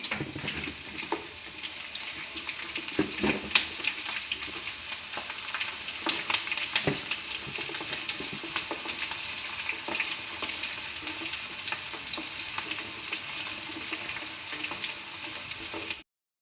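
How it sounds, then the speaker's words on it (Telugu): Fast, crackling sizzle of mustard seeds popping in hot oil for tomato pickle, with scattered sharp pops over a steady hiss. "నూనె కాగినాక మస్టర్డ్ వేసుకుందాము."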